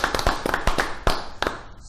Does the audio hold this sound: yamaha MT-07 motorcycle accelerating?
no